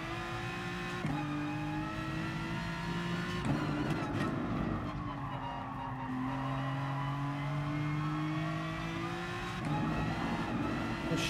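Aston Martin race car engine in GT Sport, a sustained loud roar with rising and falling pitch as it accelerates and shifts gears, with faint tire noise and no talking.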